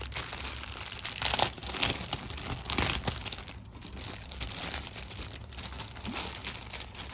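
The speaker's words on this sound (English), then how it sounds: "I'm throwing all this paper on the floor" Paper brochures being crumpled and tossed onto the floor during an unboxing, producing a steady run of close, dense crinkling and crunching with a few louder bursts and no talking.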